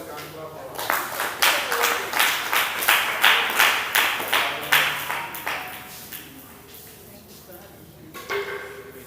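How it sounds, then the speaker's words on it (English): Conference audience clapping in a hall, a burst of rhythmic applause that builds quickly and then thins out into a few scattered claps. "You can clap for us."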